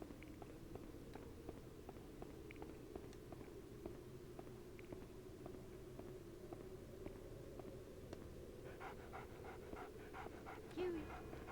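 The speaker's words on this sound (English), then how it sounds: "I have to go find that dog now." Dog panting in the PS2 horror game Haunting Ground (2005), a steady rapid rhythmic pant running throughout at low level, with faint footstep patter joining near the end.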